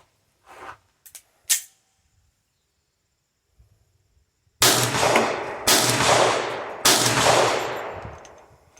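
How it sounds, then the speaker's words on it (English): Pistol shots from handloaded bullets ring out outdoors: a few faint distant pops and clicks, then three loud close reports with long ringing decays, spaced about a second apart. "I was just shooting them up."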